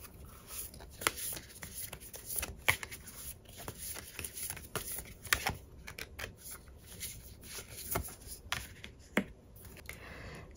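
Tarot cards are shuffled and handled close up in a quiet room, with soft, irregular riffling and sharp flicks and taps scattered through the passage.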